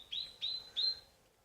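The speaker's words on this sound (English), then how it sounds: "make a bird sound. This is an American robin." American robin song played back from a smart speaker: three short, bright chirped phrases in quick succession, fairly faint, in a quiet room with no talk.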